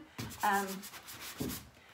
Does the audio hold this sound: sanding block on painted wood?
yes